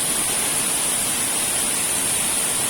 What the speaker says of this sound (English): And the water is flowing,